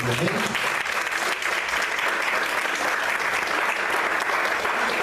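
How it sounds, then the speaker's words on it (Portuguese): A church congregation claps steadily and loudly for several seconds, a dense, even wash of applause without breaks. "Vamos aplaudir o Senhor bastante, amém?"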